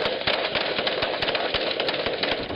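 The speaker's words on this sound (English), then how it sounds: "a massive blast of gunfire." Heavy bursts of rapid gunfire from a cargo ship's security team toward a pirate skiff at sea, a dense rattling string of shots at close range, loud and continuous with no talking.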